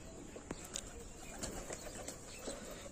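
A pigeon coos softly from a rooftop, low murmuring calls heard faintly under outdoor background noise, with a few brief wing flaps or chirps and no talking.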